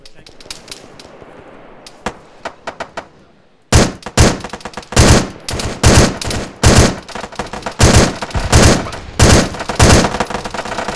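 Gunfire in a military video game: a few scattered shots, then a long loud run of rapid bursts and single cracks, close and dominant.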